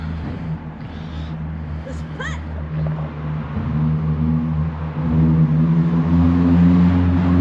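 A Honda Civic EK3 engine hums steadily close by, its revs climbing gradually toward the end, with faint chatter in the background.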